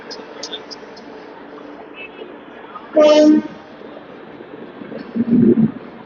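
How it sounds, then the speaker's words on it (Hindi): A train hauled by a tricolour Visakhapatnam WAP7 electric locomotive pulls in from the Korba line, sounding two loud horn blasts a couple of seconds apart over a low, rumbling background. "ये ट्रेन आ रही है कोरबा लाइन से"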